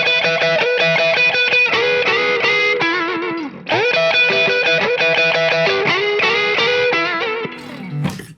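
Overdriven electric guitar plays a blues lick with a late-70s roadhouse feel, dense bent notes and chord stabs played twice through, loud and close, cutting off abruptly at the end.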